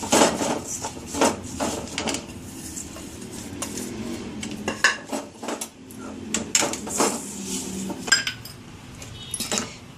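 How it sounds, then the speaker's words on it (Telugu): Roasted sesame seeds poured into hot jaggery syrup and stirred together for sesame chikki, heard as repeated close clinks, scrapes and knocks of a utensil against cookware in an uneven rhythm, with no talking. "ఇలా స్టవ్ ఆఫ్ చేసుకున్నాక తర్వాత ఈ ఏంపుకున్న నువ్వులను ఇందులో పోయాలి."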